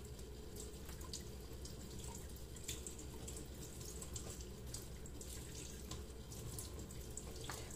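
Tap water runs steadily into a sink while makeup brushes are rinsed, a continuous soft splashing with small drips and clinks throughout.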